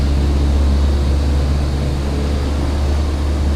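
A light plane's engine in the FSX flight simulator game holds a loud, steady low drone through the takeoff roll, a continuous rumbling hum with no voices.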